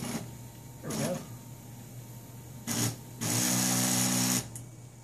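The X-axis stepper motor of a home-built 3D printer whirs in short bursts, one brief move, a short pause, then a longer, louder run, close by over a faint steady background hum.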